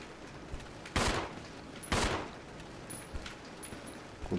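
Gunfire in Resident Evil 0 HD: two loud, close shots about a second apart, each with a short echoing tail, then quieter clicks and thuds and a faint final crack.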